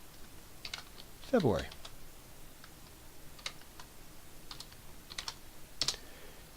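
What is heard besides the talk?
typing a formula on a computer keyboard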